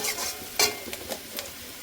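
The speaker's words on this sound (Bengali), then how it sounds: "লবণ দিয়ে ভেজে নেব, কিছুক্ষণ হতে দেবো। দেখুন সবজিগুলো ভেজে নিয়েছি," Vegetables frying with salt in a pan, a soft continuous sizzle broken by several quick spatula scrapes and knocks against the metal, close and fairly quiet.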